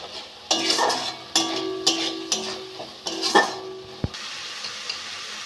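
Coriander and cumin powder masala fries in a pan with a light sizzle, broken by several spoon scrapes and knocks against the metal and one sharp tap before the noise drops away.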